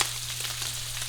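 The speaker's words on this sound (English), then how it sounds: "We have bacon sizzling." Bacon sizzles in a pan, a brief, even crackling hiss heard up close over a low steady hum, with no talking.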